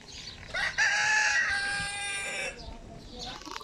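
A rooster crows once nearby, a loud drawn-out call with a rising start and a long held middle, and faint farmyard noise follows.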